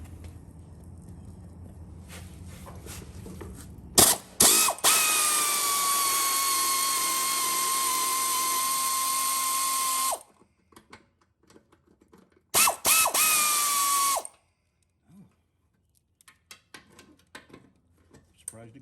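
Bolts being backed off with a ratchet wrench: a high, steady mechanical whine runs for about six seconds, then returns as a shorter two-second burst, with quiet gaps and faint clicks around it.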